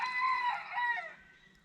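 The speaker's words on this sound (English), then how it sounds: "cutting out rooster noises." A rooster crows once, a drawn-out, nasal call that trails off, heard at moderate distance with no talking.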